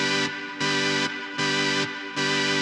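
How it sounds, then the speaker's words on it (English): A harsh, bright Farfisa organ layer inside a song, playing four loud sustained chords in a steady rhythm with short quieter gaps between them, and no talking. "I have this pretty harsh sounding farfisa layered in as well"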